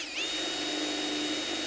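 A power drill whines steadily at close range, a high-pitched continuous spin with a brief pitch dip at the start as the bit bites into the center of a thin metal pie tin.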